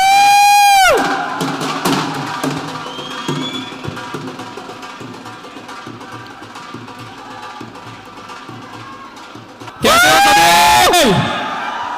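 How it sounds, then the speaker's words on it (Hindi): A large audience cheers and shouts at a live motivational event, with loud bursts at the start and end and a lower murmur of voices and clapping in between. "Everybody in the audience, make some noise!"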